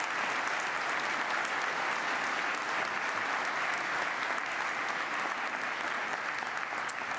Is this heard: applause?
yes